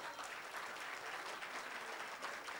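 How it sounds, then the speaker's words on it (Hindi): Audience clapping at a Hindi poetry recital, a sustained dense wash of applause from a crowd, fairly faint and even throughout with no distinct voices. "तालियां बजती रहनी चाहिए"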